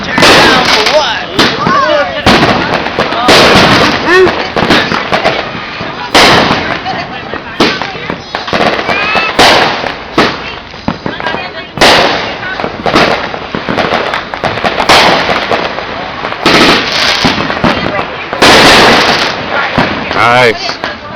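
Fireworks at a 2014 block party in Detroit crack and boom loudly and almost without pause, dense overlapping bursts and rapid firecracker volleys filling the whole stretch, with voices faintly mixed in.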